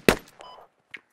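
A sniper rifle shot in the military shooter game Squad, a single sharp nearby crack with a short thud, then a brief fainter click, with no talk over it.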